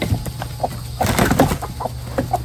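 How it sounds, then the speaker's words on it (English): Two roosters fighting, clucking and squawking in short agitated bursts, with scuffling and a brief flurry of wing flaps close by. "two roosters fighting."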